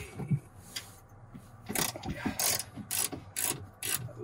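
A ratchet tightens a bolt on a swivel seat being installed in a Chevy Express van, clicking in a steady series of quick strokes, close but fairly quiet.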